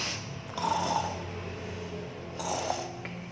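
At a children's Sunday school service, a voice imitates snoring with two close, rasping snore-like bursts, the first near the start and the second toward the end, separated by a quieter pause.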